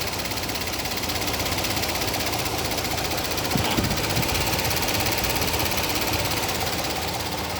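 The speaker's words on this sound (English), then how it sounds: "you will hear when the compressor starts working right away" A car air conditioning compressor runs under the hood, giving a steady, close mechanical hum and whir with a faint rattling texture and a brief knock partway through.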